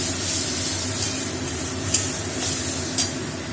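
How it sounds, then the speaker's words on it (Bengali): Tomato paste fries in hot oil in a pan, a steady dense sizzle and hiss with a few brief stirring scrapes, continuous and close. "এবার এই তেলের মধ্যেই দিয়ে দেবো টমেটো পেস্ট।"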